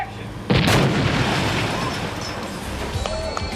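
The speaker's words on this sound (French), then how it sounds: "l'explosion de la Maison Blanche, c'est pas de la CGI" The White House blows up as a practical effect in Independence Day, a sudden loud blast followed by a long roaring rumble that slowly fades.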